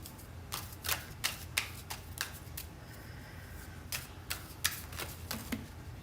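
Playing cards being shuffled by hand during a live tarot-style reading, a run of quick crisp riffles and snaps, close and moderately loud, with no talking over them.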